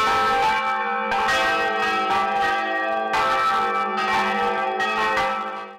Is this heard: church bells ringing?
yes